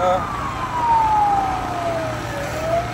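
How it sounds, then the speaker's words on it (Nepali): An ambulance siren sounds on a busy road at Phulbari Chowk, a long falling then rising tone that sweeps slowly, fairly loud over engine and traffic rumble. "अब चाहिँ बाटो एम्बुलेन्सलाई पहिला जान दिउँ"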